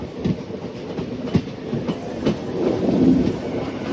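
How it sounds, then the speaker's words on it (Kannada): A local MEMU train on the Bengaluru–Mysuru line runs past near Kengeri, giving a steady rumbling roll with faint clickety-clack of wheels over rail joints and a few louder knocks, continuous and fairly close. "local train memo"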